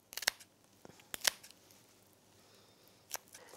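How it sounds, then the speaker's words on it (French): Kitchen scissors cut through a red mullet fillet, giving three crisp, close snips spaced over a few seconds against a quiet kitchen background. "Ensuite, on reprend les ciseaux et on fait le même geste."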